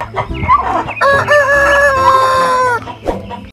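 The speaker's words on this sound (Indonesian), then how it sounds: "ini ayam jago" A rooster crowing loudly and close, one long drawn-out cock-a-doodle-doo preceded and followed by short clucks.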